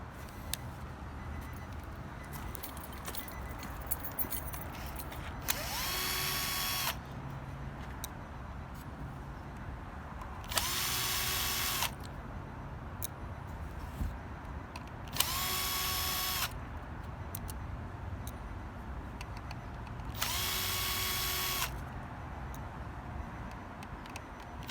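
A power driver removes screws from the dash of a 2018–2019 Infiniti QX80. Four separate, short whirring bursts are spaced a few seconds apart over a quiet background.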